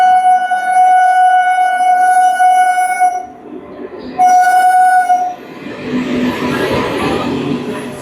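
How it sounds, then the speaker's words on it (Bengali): A train bound for Sealdah pulls into a station, likely Berhampore Court, sounding a loud, sustained horn twice before a heavy, close rumble of wheels and carriages rolls in. "শিয়ালদা যাওয়ার ট্রেন চলে আসলো"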